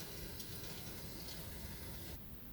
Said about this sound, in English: Okay, turn on the faucet.